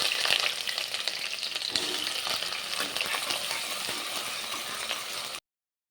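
Cinnamon and chopped onions frying in hot oil and ghee for a biryani, a loud dense crackling sizzle close by with a few stirring scrapes, cutting off abruptly at the end.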